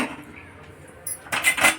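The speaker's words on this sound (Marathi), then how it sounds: "आता मी कढई ठेवते" A metal kadhai (wok) is set onto a stove while pav bhaji is being made: a quiet stretch, then a few sharp metallic clanks close by near the end.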